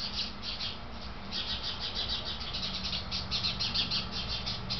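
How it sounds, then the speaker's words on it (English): Birds of two species chirp and call in rapid, repeated bursts while mobbing cats outdoors, a busy chattering of high calls at moderate distance with steady background noise. "I've never seen 2 species of birds act together to attack cats"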